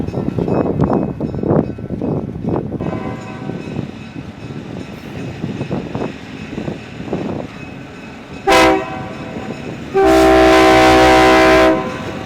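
A train with Lionel-built cars rolls by on the Steamtown line with rhythmic clattering of wheels on track, then two loud horn blasts, a short one followed by a longer sustained one.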